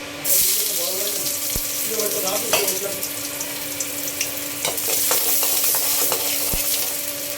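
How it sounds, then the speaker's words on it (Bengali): Hot oil being poured over dal for tempering, giving a loud, bright sizzle that fills the whole stretch, with a sharp clank near the start and another near the end, plus faint clattering. "ডাল বাগার দিতেছি"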